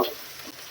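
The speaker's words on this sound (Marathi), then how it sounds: "हे आलं लसूण आणि मिरचीची पेस्ट टाकूया" Ginger, garlic and chili paste hits hot oil in a home kitchen tempering, giving a soft, steady sizzling hiss that stays faint and continuous through a brief moment, with no voices.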